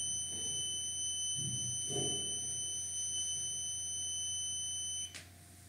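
A continuous high-pitched tone from an active buzzer in an Arduino PIR motion-sensor alarm drones steadily, with faint clicks and handling noises beneath, then cuts off abruptly near the end.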